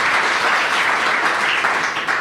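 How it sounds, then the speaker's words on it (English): Steady, dense applause from a studio audience welcoming a guest onto a talk show, continuous and fairly loud throughout with no talk over it. "So give him a round of applause."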